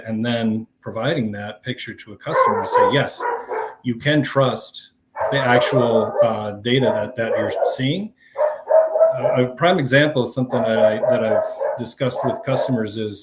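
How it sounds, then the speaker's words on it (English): A pet dog barks in the background while someone speaks steadily in the foreground, the barking buried under his voice throughout. "I apologize if you hear my dog in the background."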